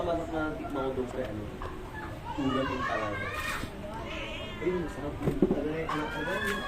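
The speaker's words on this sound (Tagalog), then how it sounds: "May meeting din pala yung mga pusa." Several cats meowing and caterwauling in drawn-out, overlapping cries that rise and fall, fairly close, with voices in the background.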